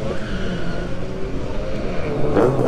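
A drag racing car at an MSA drag event sounds from a distance as a steady low engine drone that stumbles and bogs, with rumbling crowd-area ambience and no talk.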